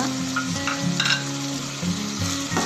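Tomatoes and salt fry in a pan for a Tamil-style biryani gravy, giving a close, steady sizzle broken by a few scraping stirs and tonal clinks.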